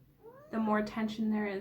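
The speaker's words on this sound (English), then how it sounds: "Sorry, don't mind me, that's my cat." A house cat meows a few times, rising and drawn out, close to the microphone indoors while a person keeps speaking over it.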